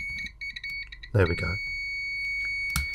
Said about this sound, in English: if I put my tester into the contacts of switch number 1, I should get an audible beep on 2.